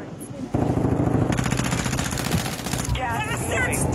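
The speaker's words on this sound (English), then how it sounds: "They're shooting at me." Rapid automatic gunfire bursts from the video game Warzone 2, loud and continuous at first and then in shorter bursts, with a player talking over the shooting.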